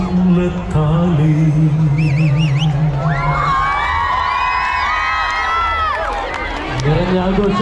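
Crowd at a Christmas dance event in Thrissur cheering and whooping loudly, bursts of shouts over music and a voice, sustained and close.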